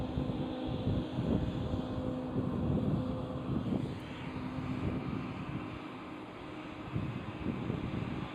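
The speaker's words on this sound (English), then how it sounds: "I see China Airlines A350 as well, taxiing towards us." A China Airlines Airbus A350 taxis at Amsterdam Schiphol airport, a steady, moderately distant jet engine rumble and hiss with some wind buffeting on the microphone.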